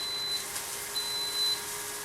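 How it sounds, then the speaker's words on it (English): A computer emitting an intermittent high electronic beep during a Linux installation, a few short tones and one longer tone over a faint steady background hum. "I'm getting a beeping sound here."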